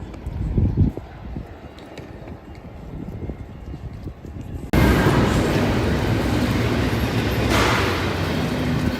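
A double-stack container freight train rolls past at Fullerton, first a rumbling approach with clattering wheels, then a sudden loud, sustained roar of cars passing close by.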